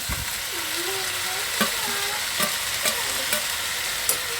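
Fenugreek leaves frying in a little oil in a pan: a soft continuous sizzle, broken by a few sharp scraping stirs of the spoon.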